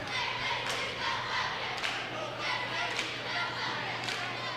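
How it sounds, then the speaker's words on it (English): A basketball crowd at a boys' game against Deer Park erupts after a dunk, a broad roar of cheering with scattered claps and thumps rising and falling over a few seconds. "that dunk certainly woke up the Indian Hill crowd"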